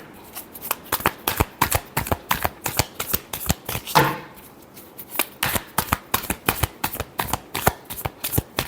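Tarot cards are shuffled in quick, crisp riffling bursts that repeat rhythmically and close by, with one brief pause midway.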